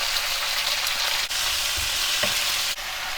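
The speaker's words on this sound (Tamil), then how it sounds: "தக்காளி, வெங்காயம், இஞ்சி எல்லாம் நல்லா வதங்கணும்." Tomatoes, onion, ginger and curry leaves sautéing in a pan with salt for a bitter gourd curry, giving a steady loud sizzle throughout with a few scraping stirs and clatters; no voices.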